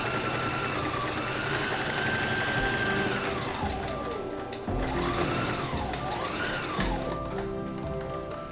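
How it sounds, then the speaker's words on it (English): A Brother sewing machine runs a straight stitch along a curved fabric edge, a steady fast mechanical whir and tapping that holds close and fairly quiet, with the motor pitch rising and dipping as the speed changes. "you're going to sew along that curved edge, just with a straight stitch again"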